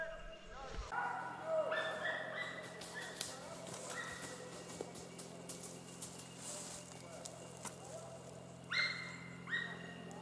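A hunting dog bays during a driven wild boar hunt in woodland, with intermittent distant barks and yelps, soft rustling, and quiet talk underneath.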